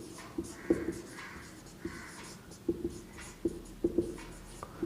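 Chalk or marker taps and strokes on a classroom board during a Class X mathematics lesson: a quiet, irregular run of sharp ticks and short scratches, with no voices.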